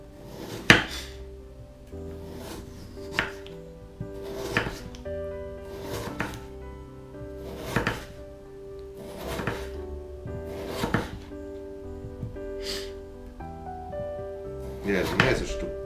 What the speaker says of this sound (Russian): как на чипсы, нарезать.